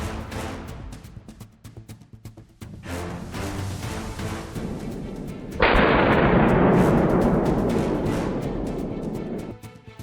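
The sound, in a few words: rifle gunshots during a wild boar hunt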